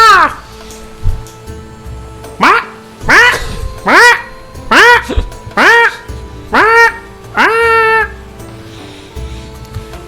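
A human voice imitates seagull calls, giving about seven loud, nasal, squawking cries in an irregular series, each a sharp rising-and-falling yelp, close to the microphone with quiet gaps between.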